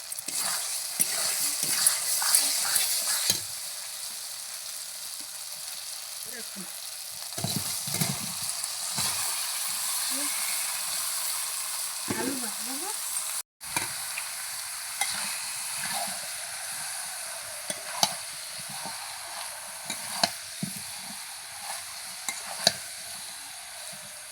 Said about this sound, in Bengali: মশলাটা ভালো করে কষানো হয়ে গেছে এবার দেব চিকেনটা